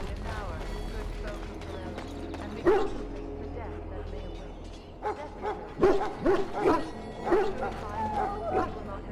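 Hounds bark in the Dragon Age Origins fantasy video game, a scattering of mid-distance barks and yips over a low ambient background, with a voice speaking in the scene.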